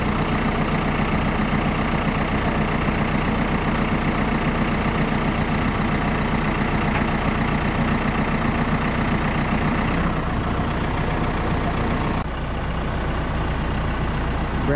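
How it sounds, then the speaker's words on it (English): A tractor engine runs steadily close by, a constant low idling rumble that barely changes throughout, with no talking over it. "Grandma Hanato and Stella are in the tractor."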